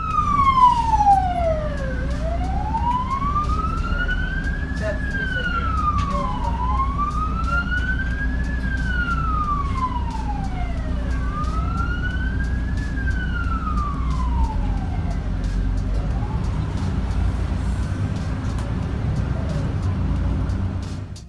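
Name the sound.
ambulance siren in traffic in Australia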